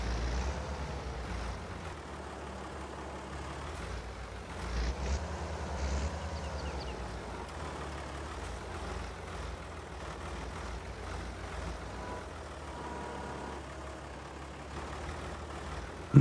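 A 200HP tractor hauls pallets in a farming video game, its engine a low, steady, fairly quiet drone that holds a constant hum with slight rises in load.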